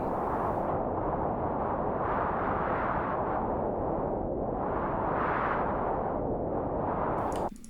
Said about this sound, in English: those fluctuations can get you to a point where it's starting to sound a little bit more like real wind